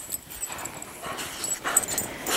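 Several dogs whimper and yip close by, with high whines and scuffling, pattering paws that come in short, uneven bursts.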